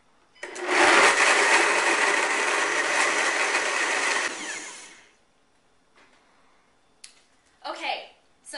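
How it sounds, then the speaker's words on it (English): A countertop blender whirs loudly for about four seconds, blending almonds with filtered water into almond milk, then winds down to quiet, followed by a few faint handling knocks and clatters. "I'm just going to push the button on my blender"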